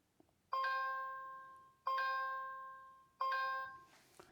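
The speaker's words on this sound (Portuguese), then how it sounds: "Tem aqui som de conexão." A Tapo TP-Link smart hub plays its connection tone: three clear, identical chime notes at an even pace, each ringing out and fading, alone in a quiet room.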